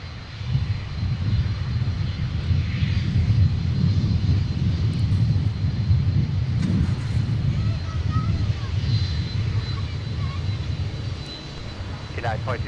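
Airliner landing on runway 30 left at Minneapolis–Saint Paul airport, a steady loud low engine roar filling the whole stretch with faint radio-style voices over it.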